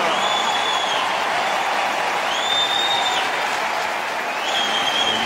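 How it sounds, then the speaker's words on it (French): A tennis stadium crowd applauds two players, a dense continuous wash of clapping and cheering at steady volume, heard from within the stands, with a few high tonal sounds recurring over it. "Vous allez entendre l'acclamation du public pour ces 2 joueurs"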